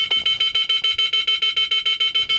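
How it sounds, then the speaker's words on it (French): A Thitronik van alarm warns of an open roof hatch or side window with a rapid, regular series of shrill electronic beeps, about six per second, loud and close with no talk. "Ça, c'est mon alarme Titronic qui est en train de me dire « Franz, t'as oublié de fermer un lanterneau ou une fenêtre latérale »"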